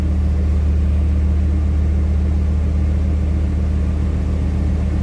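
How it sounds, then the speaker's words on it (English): A truck engine runs steadily after a pump repair, a close, even low rumble with no clear revving and no voices. "this truck sounds good"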